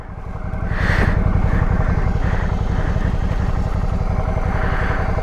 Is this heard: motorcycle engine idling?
yes